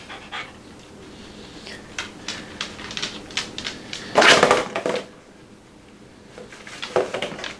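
A dog pants in quick, rhythmic breaths close by, with a louder, rougher burst of breathing midway through, in a quiet room with no talking.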